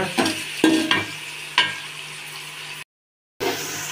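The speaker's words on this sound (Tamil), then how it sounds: "வெங்காயம் நல்லா வதங்கிடுச்சு" Onions sautéing in a pan for mushroom gravy, a close sizzle with sharp spatula scrapes and clacks in the first half, easing to a quieter fry, then a brief silence before the sizzle returns.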